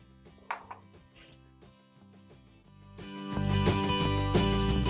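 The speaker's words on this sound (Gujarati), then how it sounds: "સામો અને સાબુદાણા બંને સાથે જ પીસી લેશું" A kitchen mixer grinder powders samo millet and sabudana with roasted cumin; after a quieter stretch of tonal sounds, the motor kicks in partway and runs loud and continuous to the end.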